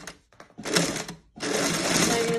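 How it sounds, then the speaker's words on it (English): A sewing machine stitches a cloth face mask in close, loud whirring runs: a short stop-start burst, a brief pause, then a longer steady stretch of rapid stitching. "Now you're gonna sew all the way to the end"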